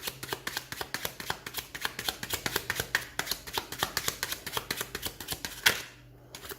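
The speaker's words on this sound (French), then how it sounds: "Dans un premier temps, le jeu est mélangé, je dis bien mélangé." A deck of playing cards shuffled by hand during a card trick, a rapid steady run of crisp riffling flicks close to the mic, ending with a sharper snap and a quiet pause.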